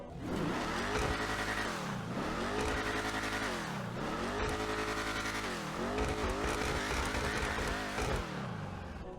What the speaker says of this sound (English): let's take a listen to what the Imponte Ruiner sounds like